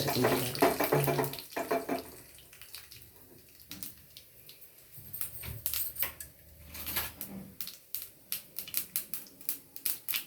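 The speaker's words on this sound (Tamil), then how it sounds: "தண்ணீர்" Water poured during cooking of wheat rava vegetable adai, a splashing, gurgling pour up close that starts strong, then gives way to scattered clinks and light sizzling crackles.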